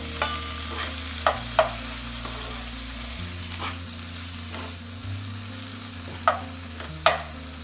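Finely chopped tomatoes go into a pan with baby bamboo shoots for a curry, frying with a low steady sizzle while a spoon scrapes and clanks against the pan every second or so, close by.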